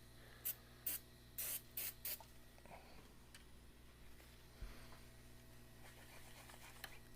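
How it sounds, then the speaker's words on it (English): Isopropyl alcohol sprayed from a spray can while cleaning flux off a circuit board: five quick hissing bursts in a row, then quiet scraping and faint handling sounds. "Little isopropyl. You don't need the spray can."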